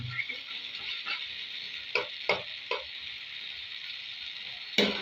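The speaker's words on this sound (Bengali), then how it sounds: "ধীরে ধীরে আমাদের কিন্তু টমেটো সস তৈরি হয়ে যাচ্ছে" Tomato sauce cooking in a pan gives a steady soft sizzle, broken by a few sharp scrapes and clicks of a spoon stirring, with no voices.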